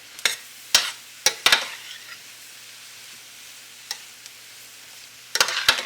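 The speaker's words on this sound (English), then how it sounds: "get all the mushroom pieces coated in the oil" Sliced button mushrooms stirred in hot oil in a pan, a faint steady sizzle broken by sharp scraping clatters of the spoon in quick bursts, with pauses between.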